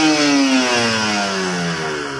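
A motorcycle engine revs steadily during carburetor adjustment, a close, loud mid-pitched drone that slowly eases down in speed over a couple of seconds, with no talking.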